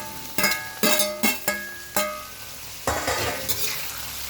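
Peas, potato and capsicum fry in a pan for veg noodles, with a soft sizzle beneath a series of sharp, ringing metal clinks as a utensil strikes the pan several times at irregular intervals.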